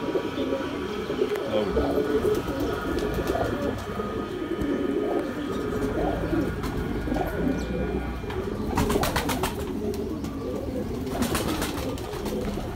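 Pigeons of a prized breed coo steadily in a loft, a continuous low murmur of overlapping calls throughout, with a faint rattle of distant movement and brief bursts of higher noise near the end.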